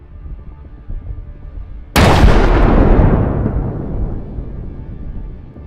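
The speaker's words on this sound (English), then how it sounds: "The vehicle is engulfed in flames and eventually explodes in a massive blast." A Russian armored vehicle explodes after a drone strike. A single sudden, loud blast follows a quieter rumble, then a long roaring decay that slowly fades.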